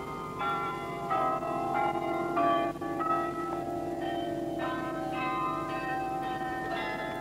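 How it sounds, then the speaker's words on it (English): A 53-bell carillon in a lakeside tower of white quartz-faced concrete in Canberra plays a steady melodic sequence of overlapping bell tones, each strike ringing on, with a constant background hum. "Three concrete towers faced with white quartz support the bells, which can be heard regularly across the lake."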